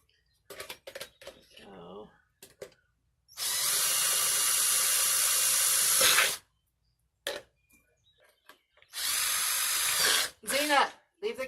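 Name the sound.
battery-operated drill drilling drainage holes in a pot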